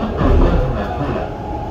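Dubai Metro Green Line train riding between Creek and Burjuman stations, a continuous cabin rumble and rolling hum with a slight swell early on, steady and close.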